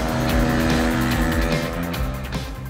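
A Piaggio Vespa or Yamaha Bop scooter climbs Mont Ventoux under acceleration, its small engine droning loud and close with a steady, slightly wavering pitch throughout.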